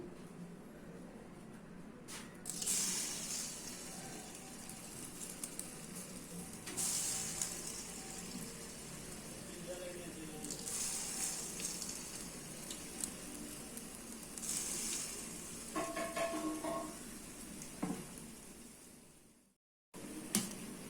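Mysore bonda batter frying in hot oil, a steady soft sizzle running throughout with a few brief louder bursts and clatters, ending abruptly near the close.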